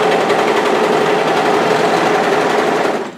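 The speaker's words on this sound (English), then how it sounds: "Here you can see my serging is meeting together, my overlock" An overlock serger runs continuously in a fast, loud, even mechanical whir, stitching the seams of a knitted sweater up close, then winds down and stops abruptly at the end.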